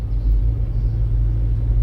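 Heavy trucks hauling palm oil fruit rumble past on a road through Nagan Raya, a loud, deep, close engine and tyre drone that swells briefly, with no voices.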